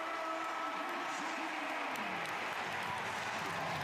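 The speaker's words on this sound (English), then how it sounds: "the 800 Virginia fans are cheering loud because I can hear them" Virginia fans cheer loudly in a college football stadium during a Duke game, a dense, sustained crowd roar with steady volume and faint commentary voices beneath.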